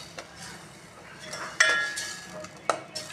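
Tomato puree is stirred into a cooking pot with a utensil, producing soft scraping and a few sharp metallic clinks against the pot at a close, moderate level.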